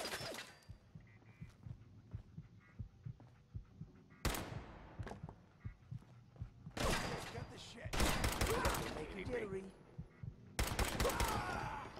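Gunfire from a gun in Fallout 4, sharp loud bursts of shots breaking in at intervals over a low throbbing background, a few rapid volleys close together near the end.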